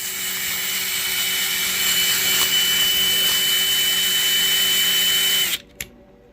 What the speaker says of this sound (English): We're screwing through the head.